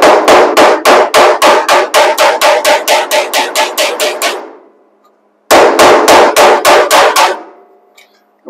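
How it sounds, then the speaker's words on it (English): Rapid, evenly spaced blows of an adjustable hammer on metal during inner A-post reconstruction of an MGB GT, a long run of ringing strikes, a pause of silence, then a shorter burst of the same sharp taps. "What they call an adjustable hammer."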